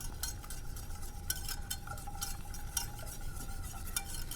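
A whisk stirs a melted panna cotta mixture in a pot, giving a steady scraping swish with repeated light clinks of metal against the pot, close and fairly quiet.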